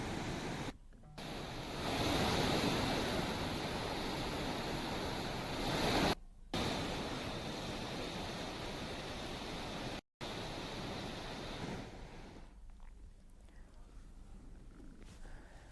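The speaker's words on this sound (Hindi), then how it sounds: "इस समय सरयू नदी का जलस्तर बढ़ा हुआ है" The swollen Saryu river, running high after heavy rain, rushes in a loud, continuous roar of turbulent water and wind noise, with a few abrupt cuts and a slightly quieter stretch near the end.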